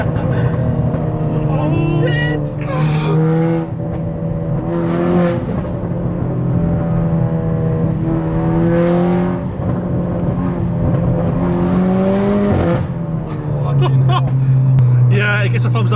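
A 250bhp Renault Clio RS engine revs loudly on a downshift, its steady droning pitch rising and falling under continuous conversation inside the car.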